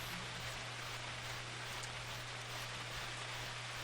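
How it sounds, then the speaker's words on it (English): Steady rain in the dark woods of the video game BlackSoul, an even, continuous hiss of falling drops with a low constant hum beneath, no talk. "It was a dark and rainy night"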